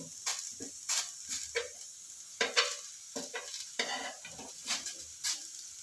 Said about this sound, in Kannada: ಈ ಥರ ಫ್ರೈ ಮಾಡ್ಬೇಕು ನೋಡಿರಿ, ಬ್ರೌನ್ ಕಲರ್ ಬರೋ ತನಕ ನೋಡಿರಿ.